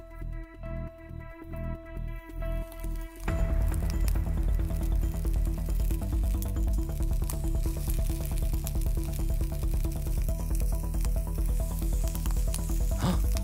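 Octopus tentacles sizzle and crackle steadily in molten lava, a dense, loud hiss that starts after a few seconds of softer rhythmic sound and holds without a break.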